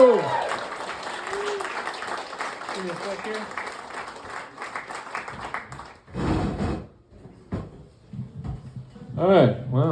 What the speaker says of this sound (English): Please give it up for Dave Zimmerman